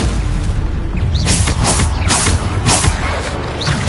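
Spell blasts from Bombarda going off in the Hogwarts Legacy video game: a loud, continuous run of booming bursts and crackling impacts, several hits in quick succession over busy combat noise.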